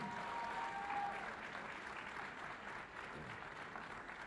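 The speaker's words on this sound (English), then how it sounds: "Let's give them a round of applause as they're leaving" Applause from an audience at a Black History Month celebration in Durham fills the room, a dense steady clapping that stays loud throughout.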